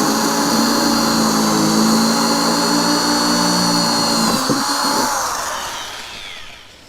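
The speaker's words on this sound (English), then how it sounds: "So I'm just drilling these holes out for the mounts." A power drill drills mounting holes for hard saddlebags on a 2019 Harley-Davidson Softail Fat Boy, whining steadily for several seconds, its pitch holding level before the motor winds down and fades out.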